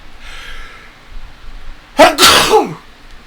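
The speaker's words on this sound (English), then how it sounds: "I never sneeze in just one" A single loud, explosive sneeze close by, preceded by a soft sharp intake of breath.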